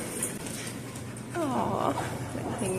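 Puppies whimpering and whining in a few rising high-pitched cries, close by over a steady background hum in a room.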